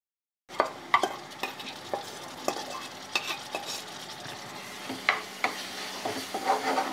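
Ginger-onion masala paste sizzles in a pan while a spoon scrapes and stirs it in repeated strokes, with soft clinks against the metal over a steady close frying hiss; no voices.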